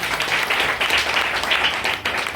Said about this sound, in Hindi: एक बार अपने लिए एक बार जबरदस्त तालियां चाहिए।